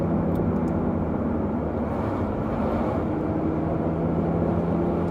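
Audi RS3 exhaust in dynamic mode with valves partially closed, a steady low drone and hum holding even and moderately loud throughout, with no talk.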